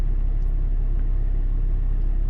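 A stationary 2008 Mercedes-Benz GL320 CDI diesel engine idles with a steady, loud low rumble throughout, no voices.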